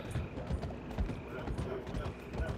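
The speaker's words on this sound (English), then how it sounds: "I'm just a guy on a horse." Hooves of a horse in Red Dead Redemption 2 clip-clop in a steady, moderately loud rhythm while the horse is ridden, mixed with faint rattling tack and a voice talking over it.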